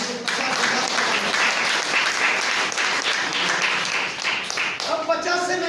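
Loud, dense applause from a large audience, sustained for about five seconds before tapering off as speech resumes at the end.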